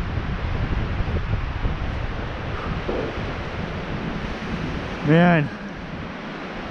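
Strong windstorm whipping trees around a tarp camp, a steady loud roar of gusting wind and thrashing foliage that runs the whole time, with a voice briefly heard over it.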